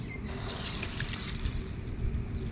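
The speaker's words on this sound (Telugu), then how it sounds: "నీళ్ళు అయితే పోసుకుందాం." Water poured into a pot of Andhra-style sambar without dal with aubergine pieces, a faint steady trickling splash at close range, no talking.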